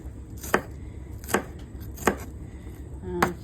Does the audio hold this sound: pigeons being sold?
no